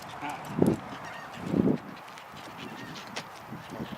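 Pinkish, flamingo-like birds in a flock outdoors give two loud, hoarse honks about a second apart, followed by fainter calls and ambient noise.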